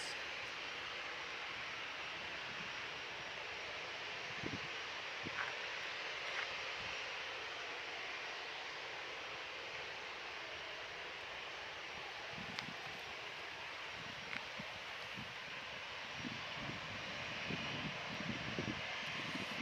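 An airliner from Dubai on final approach to Manchester Airport produces a faint, steady distant engine hum, with occasional soft clicks and rustles nearby.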